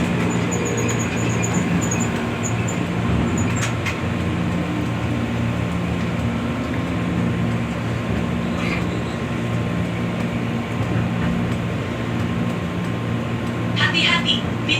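A KRL commuter train on the Bogor line rumbles steadily from inside the carriage, with a constant low roar, faint wheel clatter and brief high squeals near the end; a recorded announcement voice talks over it.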